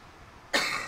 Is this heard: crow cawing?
no